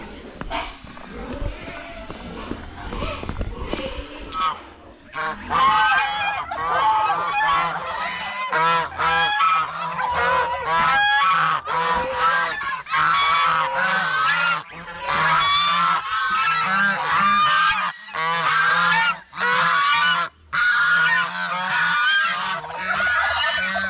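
Geese kept on a farm honk loudly and nearly constantly in a busy, overlapping chorus of many birds, close by, after a few seconds of quieter background.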